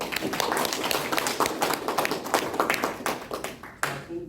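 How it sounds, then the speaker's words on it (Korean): Audience at a literary seminar criticizing a Korean literary prize, applauding together in a room; dense, steady clapping from many hands fills the space for several seconds, then thins out near the end. "모든 분들을 위해서 박수 한번 쳐주시죠."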